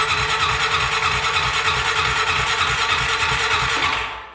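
The starter cranks a 2013 Honda Rancher ATV engine: a steady, loud whirring squeal with a fast, even low pulse, heard close and alone, cutting off just before the end.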